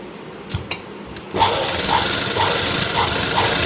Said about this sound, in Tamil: மடிச்சுட்டு அப்படியே தையல் ஓட்ட வேண்டியது தான்